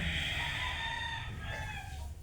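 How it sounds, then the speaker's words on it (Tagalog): A rooster crows loudly and close by, one long drawn-out call filling the whole moment with no talking. "Nasigtutugaw ka mong manok"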